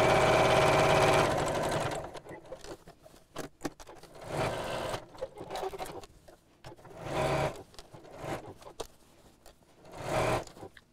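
A sewing machine stitches around the edge of a round bamboo-handle fabric bag in bursts, a long steady run followed by shorter runs separated by pauses for turning the fabric with the needle down.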